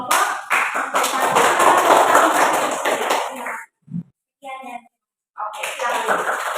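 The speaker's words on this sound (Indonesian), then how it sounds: "kita beri tepuk tangan untuk kelompok 1" A classroom of students claps for a presenting group, with a brisk, close burst of applause lasting about three and a half seconds before it stops and a voice speaks.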